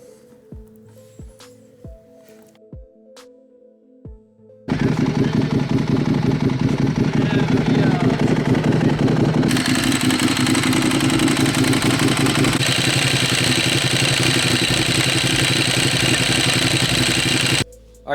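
Barn-find Ducati 1098 motorcycle engine running after restoration, a loud, steady, rough-textured idle that starts abruptly after a few sharp knocks and clicks, then drones on close by before stopping.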